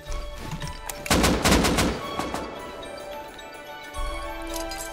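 Gunfire in the survival game Rust rings out as a quick burst of several sharp shots around the one-second mark, followed by a fading tail and another softer shot near the end, loud and close.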